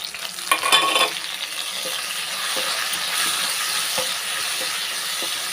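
Mixer-ground ginger garlic paste hits a hot pan of sautéed onion and fries: a clatter of spoon on metal at first, then a steady, close hiss of sizzling that continues evenly.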